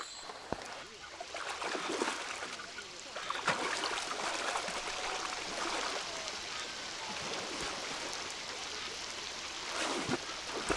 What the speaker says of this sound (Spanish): el sol de hace unos minutos ha dado paso a una tormenta